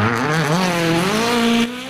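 A 2022 Hyundai Rally1 hybrid rally car accelerates hard on track, its engine note climbing steadily in pitch as a loud, close, sustained roar with no talk over it, then easing off near the end.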